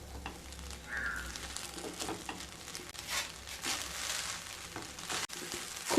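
Egg fried rice with fresh coriander, spring onion and fried egg is stir-fried in a hot pan, giving steady close sizzling with repeated scraping and tossing of a spatula throughout.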